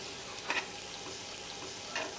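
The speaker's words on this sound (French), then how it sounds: "On peut arroser sans avoir peur d'abîmer la poêle grâce au revêtement." Food basted with butter in a hot coated frying pan in a Paris restaurant kitchen gives a continuous close sizzle, with two brief spoon-and-splash accents over the steady frying hiss.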